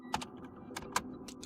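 Several quick keystrokes tapped on a computer keyboard while a Linux grep command is entered, sparse clicks spaced irregularly, close and clear with no talk.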